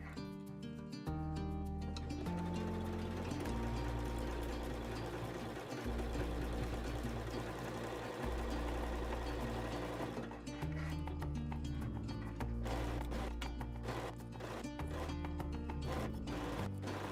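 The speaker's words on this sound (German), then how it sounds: "Den Einsatz nähe ich dann wieder mit einem dehnbaren Stich zusammen." A sewing machine stitches a ruffle insert into children's leggings with a stretch stitch, running as a continuous steady whir throughout, blended with background music.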